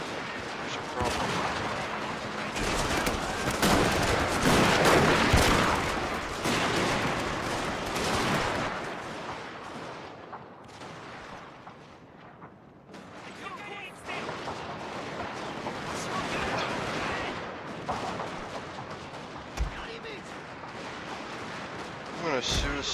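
Troops firing guns during a siege battle in the Shogun 2 video game, with dense crackling volleys of gunfire and scattered distant bangs coming in bursts, a quieter lull mid-way, then renewed firing.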